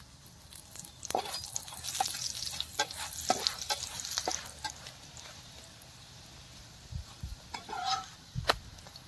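Broccoli paratha frying in a little oil on a tawa, a close crackling sizzle with scattered spatters and occasional scraping and utensil taps, rising and falling in bursts.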